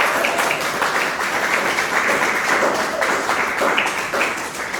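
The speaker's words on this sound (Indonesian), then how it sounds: "Tepuk tanganlah untuk kelompok terakhir." Audience members in a philosophy class session clap for the final group, a steady, dense patter of applause that continues evenly from start to finish with no talking over it.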